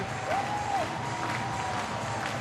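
Steady crowd noise at a baseball stadium of nearly 28,000 during a bases-loaded eighth inning, a continuous distant roar with a brief whistle-like tone rising over it.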